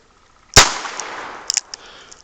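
A single sharp crack from an H&R model 649 .22 revolver fired at a target about 20 feet away, followed by a short ringing tail and a few faint clicks.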